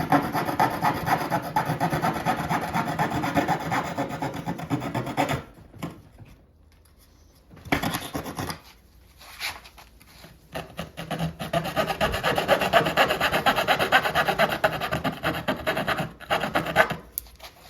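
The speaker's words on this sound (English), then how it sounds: "you don't have to get these curves exact with this coping saw" A hand coping saw cuts curves into a wooden baseboard with steady, dense rasping strokes up close. The sawing breaks off briefly for a quiet pause and then resumes just as continuously.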